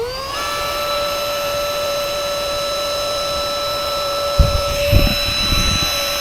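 Top Pump and AIRBANK rechargeable electric pumps inflating paddleboards start together into a loud, steady high whine with a droning hum, running continuously at close range, with a few brief thumps toward the end.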